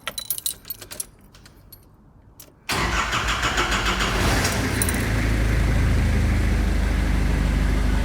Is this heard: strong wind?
no